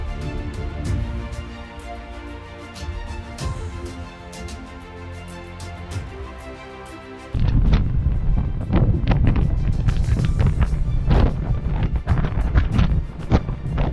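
Strong wind buffets the microphone in a continuous roar while climbing Taila Baila Fort, growing noticeably louder and rougher halfway through, with occasional knocks and clatters.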